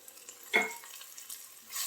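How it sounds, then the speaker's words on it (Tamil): Homemade chili powder, garam masala and coriander powder sautéing in a pan while cooking egg noodles, a brief soft sizzle and stir burst rising once near the middle amid low kitchen noise. "எல்லாம் வதக்கிடலாம் நல்லா வதங்கட்டும்"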